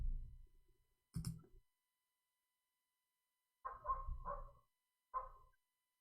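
Several dogs bark in the distance in short bursts: a lone bark, then a cluster of two or three barks a few seconds later, and one final bark, with quiet gaps between them.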